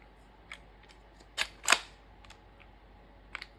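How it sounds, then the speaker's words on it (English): A GHM9G airsoft pistol's bolt locks back on an empty magazine, giving a few sharp, close mechanical clicks and one louder clack in an otherwise quiet space. "And the bolt locks on empty."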